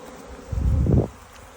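Honey bees from a transferred swarm buzzing, a brief close burst of droning hum that rises for about half a second then fades back into quiet background.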